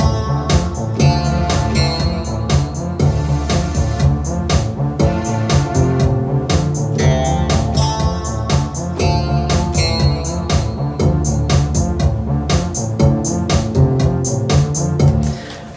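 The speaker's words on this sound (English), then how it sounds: "it's called FM Guitarish, but it's actually in polysynths" The FM Guitarish polysynth preset from a Pro Tools stock plugin plays a plucky, guitar-like synth line over a steady beat with crisp percussion hits, full and continuous throughout.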